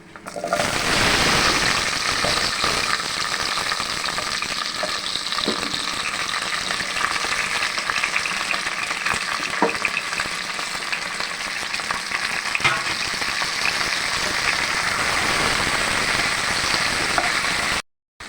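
Potatoes and okra with panch phoron frying in hot oil give a steady, dense sizzle that runs loud and continuous, with occasional faint stirring taps and no voices.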